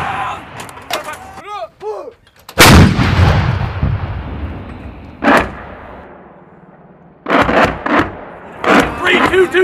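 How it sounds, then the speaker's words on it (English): Artillery rounds strike military fighting positions in a sharp, loud blast followed by a long rumbling decay, with further bursts of impacts later, while a narrator speaks between them. "Seeing the effects of artillery fire on fighting positions."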